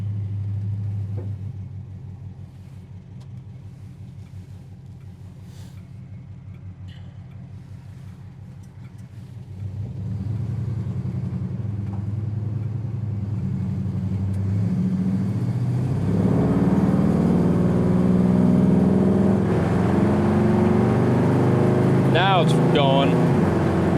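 A 1970 Chevrolet El Camino with a big block engine accelerates on the road, a steady low rumble that grows louder and rises in pitch after a shift, with faint talk over it.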